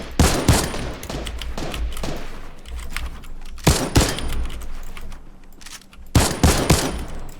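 Gunfire in the video game Fortnite, fired at targets during building practice: three loud clusters of rapid shots come at the start, middle and end over a continuous low rumble, with no talk.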